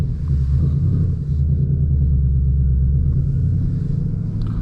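A 2026 Ford Mustang GT with a manual gearbox rumbles along while driving, its engine producing a steady, deep, close drone with only slight swells.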